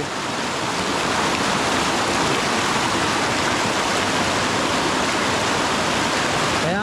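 A constant, loud roar of rushing floodwater after heavy rain on a mountain, dense and unbroken, like a swollen torrent surging past close by.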